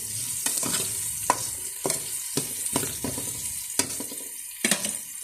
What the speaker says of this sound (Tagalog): nagisa na po natin sibuyas, bawang at kamatis